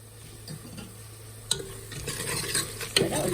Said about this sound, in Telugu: ఈ ఉల్లిపాయ ముక్క కొంచెం మెత్తబడే వరకు వేయించుకుందాం మీడియం ఫ్లేమ్లో పెట్టుకుని